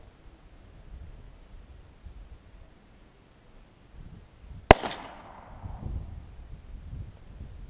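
A single sharp rifle shot cracks out partway through, fired past a Labradar Doppler radar chronograph outdoors, followed by a brief decaying echo over a low breezy background.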